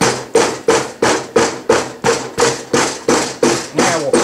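Sharp, regular impacts on casting sand being broken into smaller lumps during mulling, about a dozen evenly spaced thumps and crunches, close and loud, each with a short gritty decay.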